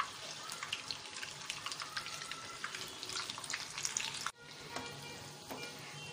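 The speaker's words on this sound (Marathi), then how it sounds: "मस्त दोन्ही बाजूने छान शालो डीप फ्राय झालेले आहेत." Leftover chapati cutlets shallow-fry in a pan with a dense, steady crackling sizzle that stays loud and close, then drops abruptly to a quieter hiss near the end.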